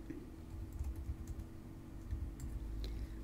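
Soft, quick key presses on a computer keyboard while text is typed, a faint irregular patter over a low steady background hum.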